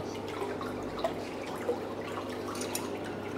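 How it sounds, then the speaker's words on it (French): A restored lighter part is rinsed in water, giving soft drips and light splashing over a low steady background hum, close and quiet, with no voices. "On rince comme les autres."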